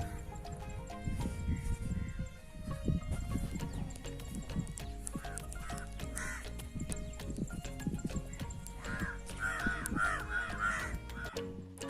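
Crows cawing repeatedly during a pitru paksha ritual as they gather to eat rice offered for ancestors, harsh calls clustered toward the end over a busy background of thumps and knocks.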